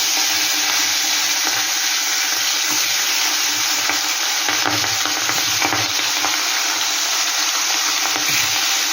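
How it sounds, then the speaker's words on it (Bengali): Salted, turmeric-coated bhetki fish bones fry in hot oil with a steady, loud, dense sizzle throughout, broken by a few soft stirring bumps and no voices. "এবার আমি এক এক করে কাটাগুলো আমি ভেজে নেব"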